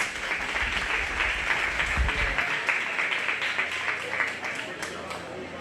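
Spectators at a 4-H/FFA goat show applaud a young showmanship winner, steady scattered clapping throughout, fairly even in level, fading slightly near the end.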